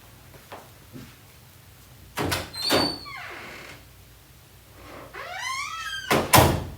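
A closet door opening indoors, with a few squeaks and thunks from the door mixed with short bursts of nearby noise and a sweeping chirping sound, all fairly close.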